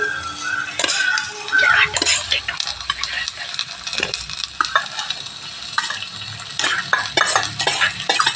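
Rice being stirred in a miniature cooking pan while making pulisatham, a scraping, clattering rhythm of small utensil strokes against the pan that continues steadily and close up, with light sizzling underneath.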